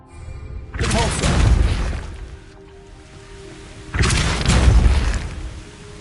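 Spell blasts from Repulsor casts in the video game Hogwarts Legacy: two loud, booming bursts with crashing, shattering tails, the second hitting about three seconds after the first.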